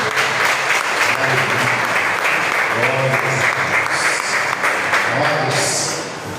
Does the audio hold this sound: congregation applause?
yes